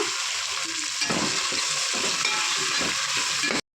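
Sprouted lentils with curry leaves, green chilli, mustard seeds and cumin sizzling in oil inside a pressure cooker, a loud continuous fry with intermittent stirring scrapes throughout.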